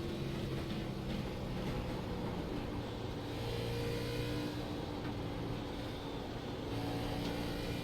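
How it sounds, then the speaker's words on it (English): A race truck engine in an oval racing video game at Twin Ring Motegi drones on steadily, revving and easing with the throttle, a continuous engine whine heard alone throughout. "Keep hearing this early throttle."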